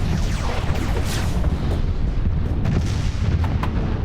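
Titan warships firing in a Master of Orion space battle, a dense, continuous rumble of heavy booming blasts with scattered sharper pops, loud and unbroken throughout.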